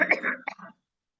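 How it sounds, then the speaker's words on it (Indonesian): A short burst of coughing, a couple of throaty coughs close to the microphone, followed by silence. "Oh, kok pakai batuk?"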